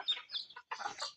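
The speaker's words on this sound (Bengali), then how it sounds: "এখন দেখতে পাচ্ছেন আমাদের মুরগিগুলো" Farm chickens eat their afternoon feed in rural Bangladesh, giving a few short, close clucks and soft chattering calls in quick bursts with a brief pause between them.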